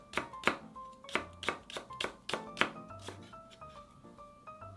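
Half an onion is sliced thin, then the white part of a green onion is cut into rounds on a board. Quick rhythmic knife taps and thuds land close up in uneven bursts, with a soft scrape now and then.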